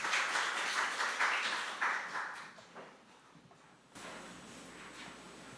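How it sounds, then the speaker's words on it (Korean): An audience at a basic-science society forum applauds a lecture speaker being introduced. The clapping is dense and moderately loud, fades out over about three seconds, and leaves a quiet room tone behind. "큰 박수 부탁드립니다"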